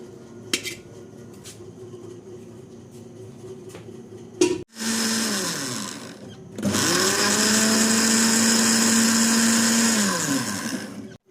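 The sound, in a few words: onions being ground into a paste in a grinder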